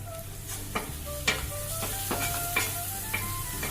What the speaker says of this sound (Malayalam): ഇതിലേക്ക് തക്കാളി ചെറുതായി അരിഞ്ഞ് ചേർത്ത് കൊടുക്കുകയാണ്.